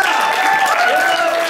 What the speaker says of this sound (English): Clap it up for Kevin, guys.